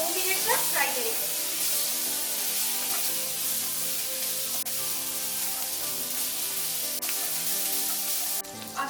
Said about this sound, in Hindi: अभी इसको लो टू मीडियम फ्लेम में 2 मिनट तक फ्राई करेंगे।